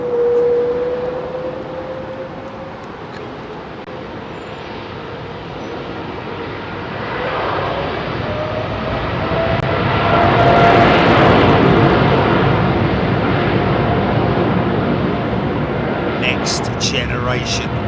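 A Cathay Cargo Boeing 747-8F departing London Heathrow Airport, its jet engine roar swelling from a distant rumble to a loud, sustained peak while people talk over it.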